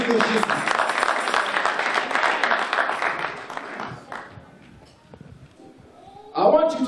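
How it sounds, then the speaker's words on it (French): Church congregation clapping together in a sustained, loud burst of applause that fades away toward the end, followed by a voice speaking. "Applaudis pour Jésus."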